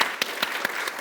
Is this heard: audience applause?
yes